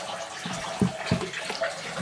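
Water pours and splashes from a soaked Sham Wow cloth, with a couple of short louder splashes among a light trickling flow, close up and with no talking.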